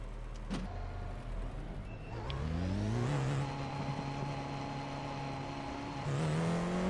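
An iRacing race car engine in the sim game, revving up through the gears with rising whine, a brief lift around two seconds, then climbing again and shifting near the end, loud and continuous without talk.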